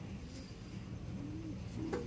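A pigeon gives faint, soft coos, a couple of low murmuring calls against quiet background noise.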